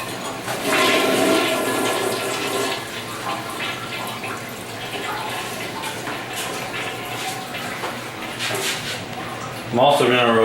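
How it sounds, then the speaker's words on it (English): A toilet flushes with a rushing, gurgling swirl of water close by, gradually draining and settling as a voice speaks over part of it. "then give it a flush so that it'll be somewhat empty of water"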